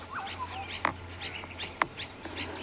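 Birds call in the African bush at sunrise: scattered chirps and short whistled notes over a low steady hum, with two sharp louder calls standing out, fairly faint overall.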